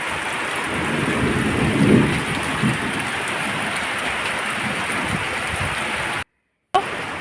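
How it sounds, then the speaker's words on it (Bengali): Steady, heavy rain pours outdoors on a hot day, with a low thunder rumble swelling around the two-second mark; the dense hiss continues unbroken, cuts out briefly near the end, then resumes. "এত সুন্দর একটা বৃষ্টি দিয়েছে মেঘও ডাকছে"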